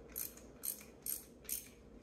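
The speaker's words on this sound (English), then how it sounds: "We tighten it up with our wrench." Four quiet, evenly spaced ratcheting clicks from a wrench tightening a spark plug on a small block Ford engine, close up with no talking.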